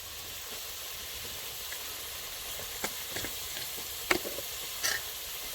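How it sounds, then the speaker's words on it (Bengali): Potatoes fry in a pan with salt and turmeric, giving a soft, steady sizzle with a few brief clicks and scrapes of stirring toward the end. "আমি আলু ভাজাতে কিন্তু একটু লবণ হলুদ দিয়ে দিচ্ছি।"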